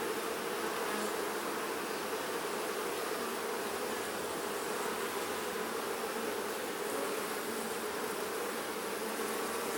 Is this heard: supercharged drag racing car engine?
no